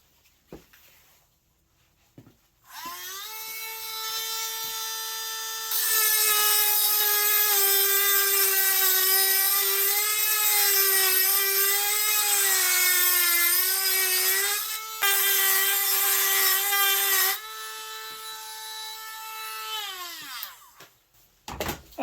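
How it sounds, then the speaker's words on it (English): A Dremel fitted with a carbide bit grinds out a hole in a garage, giving a steady, loud, high-pitched whine that holds for about fifteen seconds, with a brief dip partway through before it spins down. "I'm going to take my Dremel bit and grind this one out"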